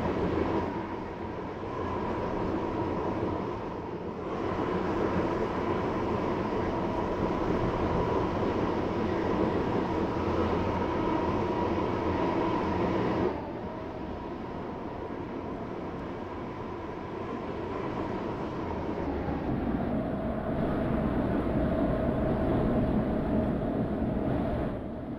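A Class 345 electric train runs on the Airlink shuttle toward Airport Terminal 2, heard from inside as a steady loud rolling hum and rumble with shifts in tone as it changes speed, continuous with no talk.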